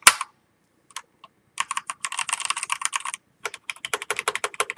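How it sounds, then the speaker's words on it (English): A Pulsar Nova optical mechanical keyboard clacks in bursts of rapid, crisp keystrokes with a few isolated presses and space bar thumps, close and clear with no talk. "Just listen to that space bar though."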